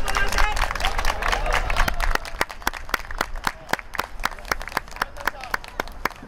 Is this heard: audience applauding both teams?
yes